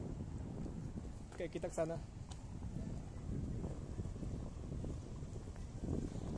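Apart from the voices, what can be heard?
wind blowing outdoors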